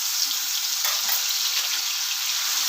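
Ginger, chili and garlic paste hitting hot oil with whole spices for chole paneer masala, a loud, dense, unbroken sizzle close up with no talking.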